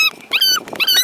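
A dog whimpers and yips in short, high, strained bursts during a rescue, fairly close and loud, with pauses between the cries.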